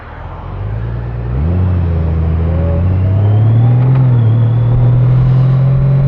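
A Honda Goldwing DCT motorcycle riding in traffic, its engine droning loud and close, rising in pitch as it accelerates, then settling into a steady hum with wind noise.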